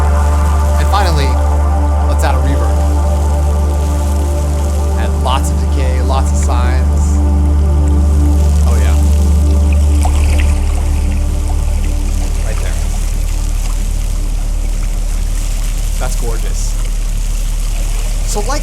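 A water field recording is processed with ping-pong stereo delay and heavy reverb, giving a loud, continuous washed-out trickling and pouring texture over a low sustained hum, with someone talking throughout.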